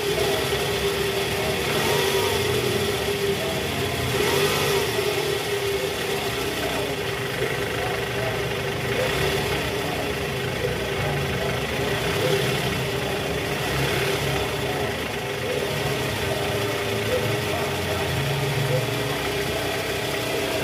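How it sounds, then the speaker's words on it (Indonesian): The 2AZ engine of a Toyota Alphard runs after a balancer shaft replacement, idling steadily with a few brief revs swelling and easing back, heard close up with faint voices now and then. "suara mesinnya ini jauh lebih halus dibanding awal"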